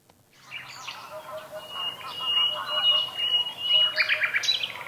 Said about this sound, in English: And now also a nightingale concert